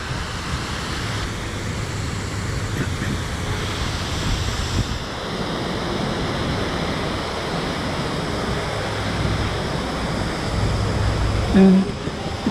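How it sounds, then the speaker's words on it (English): A downtown waterfall in Greenville, South Carolina, gives off a continuous broadband rush of falling water, steady and moderately loud throughout, with wind buffeting the microphone and a brief thump near the end. "There's the waterfall."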